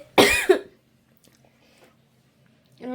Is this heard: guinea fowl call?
no